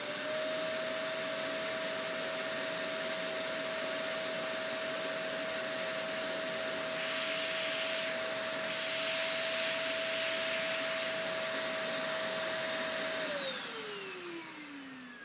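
A cyclone vacuum cleaner runs with a loud, steady whine that shifts briefly in the middle, then winds down as it switches off near the end.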